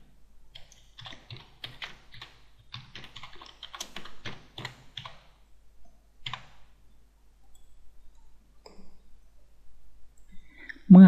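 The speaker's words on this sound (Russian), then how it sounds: "вписываем пароль" A password being typed on a computer keyboard, bursts of quick close key clicks with short pauses, fading to sparse taps near the end.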